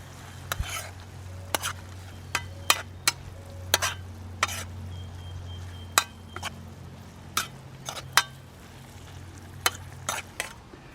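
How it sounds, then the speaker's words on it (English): Sauerkraut with a special sauce cooking in a pan over a campfire, stirred with a wooden spoon: repeated sharp scraping strokes against the pan over a low, steady frying rumble, with no voices. "we're cooking up a little bit of kraut with a special ingredient here"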